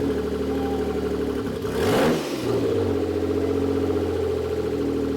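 A straight-piped 1991 Dodge Stealth engine with no muffler runs loud and close, holding a steady rumbling idle that swells briefly in a quick rev near the middle before settling back.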